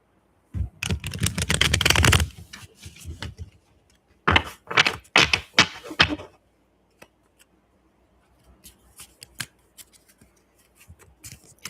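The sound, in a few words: shuffling tarot cards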